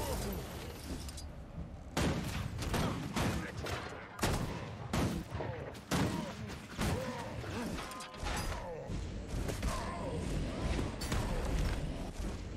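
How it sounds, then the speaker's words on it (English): Crystal shards being smashed in Guild Wars 2, a rapid volley of sharp, loud impacts and crashes, some in quick bursts with brief gaps, continuing densely to the end. "let's destroy these crystal shards"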